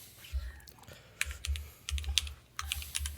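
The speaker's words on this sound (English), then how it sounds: "I just wanted to use my keyboard." Keys clatter on a computer keyboard in quick, uneven bursts of typing, with short pauses between flurries. The sound is close and fairly quiet, and nobody speaks.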